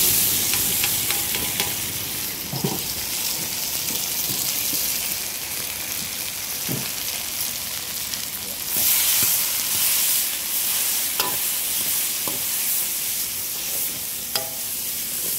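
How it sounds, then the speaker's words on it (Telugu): Green chillies, tomato and onion fry in a pan with a steady, loud hiss and crackle, broken by occasional clinks and scrapes of stirring, close up with no talking. "చూడండి, బాగా ఫ్రై అయింది పచ్చిమిరపకాయలన్నీ. ఇప్పుడు ఇది టమాటో, ఎర్రగడ్డ ఫ్రై చేసుకున్నాం కదా"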